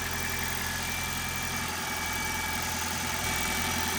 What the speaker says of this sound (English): doesn't sound like a brand new engine, but Toyota engines, as they age, they get noisy.